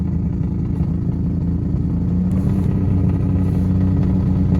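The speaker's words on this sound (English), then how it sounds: "Just rev it hard, hard, hard." A car engine revs hard and holds a loud, steady, droning roar close to the listener for the whole stretch, with no talking.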